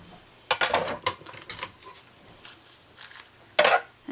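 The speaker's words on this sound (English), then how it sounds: "I run it in fully until it cuts through the die, and then I just bring it back for an extra cut to make sure it gets through both layers nicely." A die-cutting machine cranked by hand to cut a card through a die in a shadow box card project, with irregular clicking and ratcheting bursts, the loudest near the start and again near the end.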